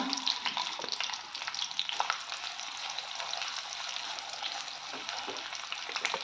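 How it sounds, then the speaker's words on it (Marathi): A slit green chili and two bay leaves sauté in hot oil in a pan, making a steady, close hiss and sizzle with a few soft stirring scrapes running through it. "मग मी टाकते एक मिरची स्लीट मारले त्याला दोन तमालपत्राची पानं थोडंसं परतून घ्यायचं आहे"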